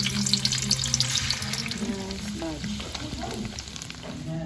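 Chicken and tofu fry in a pan for a dinakdakan dish, with a loud, busy sizzle and rapid oily crackling, plus a few stirring scrapes near the end.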